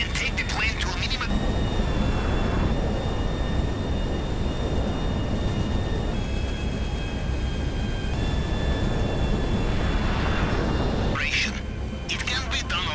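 A plane flies during a GTA V Online heist prep mission, a steady broadband engine roar holding across the whole span with droning tonal whines, under voices and game sound.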